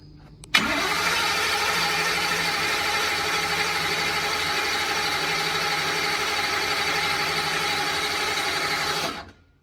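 A blown Hemi engine cranks over steadily to build oil pressure, a loud, continuous starter-driven churn that kicks in abruptly and runs unbroken for about nine seconds before cutting off.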